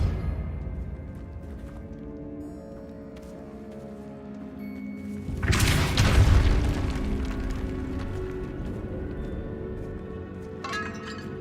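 A Depulso spell blast from Hogwarts Legacy lands as a loud, deep booming burst near the middle, swelling briefly over a low ambient game soundscape before fading back.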